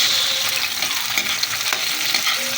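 Garlic, onion and tomato sauté in a hot pan, a steady close sizzle with scattered spatula scrapes and stirring clatter running throughout, no voices.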